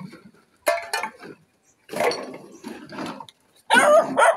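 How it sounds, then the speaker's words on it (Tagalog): A guard dog barking angrily at midday, several loud sharp bursts separated by pauses, with some clinking in between. "Oh, nagalit yung aso."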